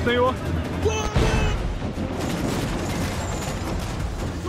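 Ship cannons firing in the naval battles of Assassin's Creed IV, heavy booming blasts followed by a rolling roar of gunfire, with shouted voices near the start.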